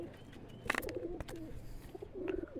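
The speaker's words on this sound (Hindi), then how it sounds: "बड़ा प्यारा कबूतर है दोस्तों" A pigeon coos softly nearby in a few short, throaty bursts against a quiet background.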